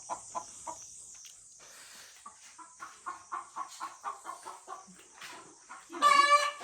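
A chicken clucks in a string of short, quick pulses close by, fairly quiet, ending in a louder burst of squawking.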